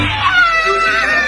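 An angry cat lets out a drawn-out, wavering yowl at a dog, loud and close, rising and falling for over a second without pause.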